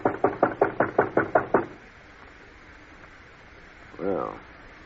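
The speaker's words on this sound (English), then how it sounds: "Let's bang on the door." A store door is banged on with eight quick, evenly spaced loud knocks, followed by near silence and a brief faint sound at the end.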